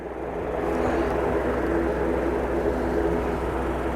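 A Loganair plane on approach to Aberdeen Airport, its engines giving a steady, full roar that holds level for the whole stretch, heard from the ground with no speech.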